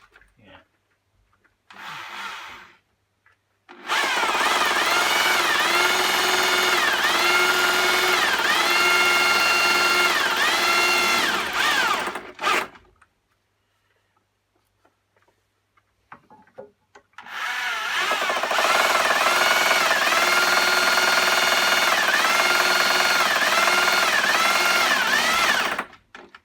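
A power drill runs in two long sustained bursts of roughly nine seconds each while screws are driven during a narrowboat fit-out, with a slightly irregular whirring tone, separated by a pause and short bits of handling noise.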